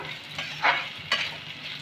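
Taro frying in a pan sizzles softly as spices are stirred in, two distinct scraping strokes of the spoon standing out close by.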